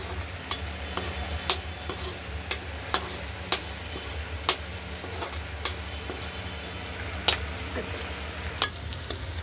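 Vegetables fry for a dry vegetable dish in a pan with a continuous sizzle, while a spoon taps and scrapes the pan at a steady, regular rhythm about once a second.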